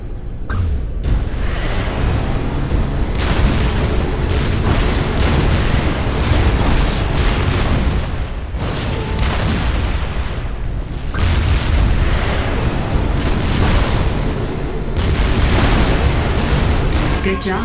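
Units in Supreme Commander 2 attack one another in a dense barrage of booming explosions and artillery-like blasts, loud and nearly continuous, with short pauses between volleys.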